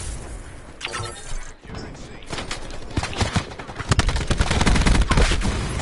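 Rapid pistol shots crack repeatedly in a game match, bursts of gunfire stacking up and growing denser toward the end, with voices talking over the shooting.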